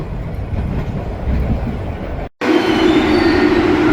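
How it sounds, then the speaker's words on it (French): A train departing in Boston rumbles loudly and steadily past, its roar cutting out for a split second before resuming with a higher metallic whine. "notre train s'en va"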